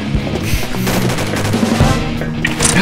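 Gunfire in a shooting video game, a loud, rapid burst of automatic fire with a few heavier single shots, dense and close, no voices.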